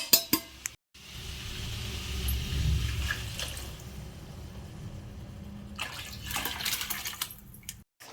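Cooking water from boiling mutton pouring steadily into a pan for several seconds, a soft continuous splashing stream, with a few clinks of utensils at the start and end.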